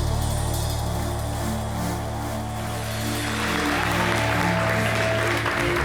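Audience applause fills a Côte d'Ivoire TV music show's special hip-hop episode, a steady, loud wash of clapping for the performers that continues without break, layered over sustained background music.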